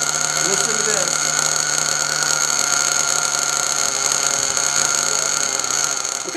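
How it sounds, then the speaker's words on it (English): A nitro RC car engine runs at a high, steady, buzzing whine during break-in, loud and close, while the igniter is pulled and the revs shift only slightly. "When I start this car, I'm going to take the igniter out, and you'll hear the RPM change."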